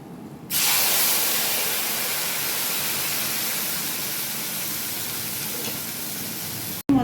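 A paste of coconut, cumin and green chili hits hot oil in a pan for taro root curry and bursts into a loud, bright sizzle that hisses steadily and eases slightly before cutting off.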